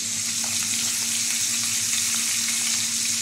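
Tilapia fish frying in a pan gives a steady, dense sizzle and crackle that holds at an even level throughout, with no voices over it.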